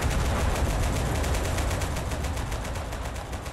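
Rapid, continuous artillery fire from the video game Total Conflict Resistance, a dense, steady barrage of repeated shots that stays loud and unbroken for the whole stretch with no talk over it.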